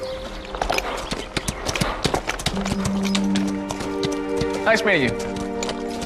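Horses walk with a steady clip-clop of hooves on a hard surface, close and distinct, while people talk briefly over the hoofbeats and a horse gives a short whinny near the end.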